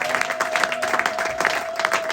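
A church congregation claps together in praise, a steady dense patter of many hands at a lively pace, with a faint sustained tone running underneath.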